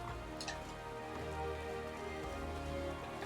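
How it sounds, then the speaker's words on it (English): Steady rain in Final Fantasy XIV falls and patters on a surface, a continuous hiss with light ticking drops, and nobody speaks. "Oh, it's raining."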